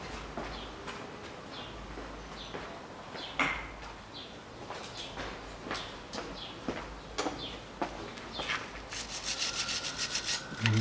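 A wire brush scrubs a suspension part on a 2007 Chevrolet TrailBlazer 4.2 during a stabilizer bushing replacement, giving repeated rasping strokes in an irregular rhythm, close and fairly loud, with a short metallic clatter near the end.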